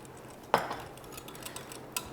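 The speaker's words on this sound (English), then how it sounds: "and just keep stirring." A utensil scrapes and clinks once in a pot of melted homemade chocolate with a pinch of salt, followed by softer stirring scrapes and a second small clink near the end, fairly close and alone.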